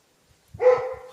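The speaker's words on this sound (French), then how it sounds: "entre le chien quand quelqu'un passe" A dog gives one close, loud bark with a whiny tail as someone passes by, after a few soft thumps.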